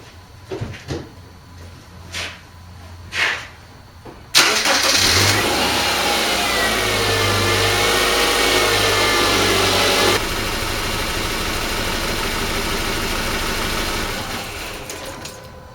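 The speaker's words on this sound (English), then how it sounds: "You want to start your vehicle, let it run until it runs out of fuel injection cleaner" After a few clicks and knocks, a car engine cranks and catches during a fuel injector cleaning, then settles into a steady, loud idle that drops slightly in level partway through and keeps running.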